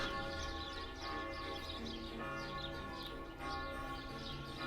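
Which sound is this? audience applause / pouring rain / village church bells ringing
village church bells ringing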